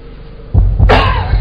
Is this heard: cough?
yes